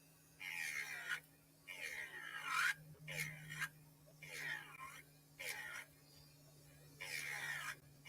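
An electric nail file with a 100/180 grit sanding band grinds gel nail extensions in a steady series of short, faint rasping bursts about a second long, separated by pauses, over a low electrical hum.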